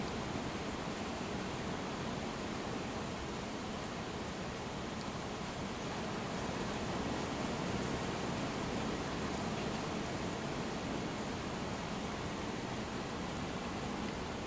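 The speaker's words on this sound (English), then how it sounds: "Getting some rain here." Steady broadband rain hiss fills the whole stretch, constant and even with no talking and no distinct drops or pauses.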